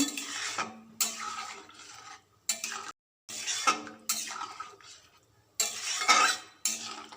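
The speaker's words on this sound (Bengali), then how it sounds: "স্বাদ মতো লবণ পরিমাণ মতো হলুদ গুঁড়ো দিয়ে ভালো করে মিশিয়ে নেব" A utensil scrapes and clinks against a pan while salt and turmeric powder are stirred into a simmering prawn and okra curry, in close bursts broken by brief silences.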